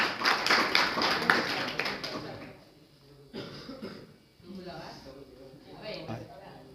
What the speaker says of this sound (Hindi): और जोरदार ताली से स्वागत करें वंश को।